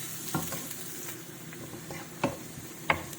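Ginger and garlic frying in a pan while being stirred for Gobi Manchurian, a soft steady sizzle broken by a few sharp scraping knocks of the spoon against the pan, with no talking.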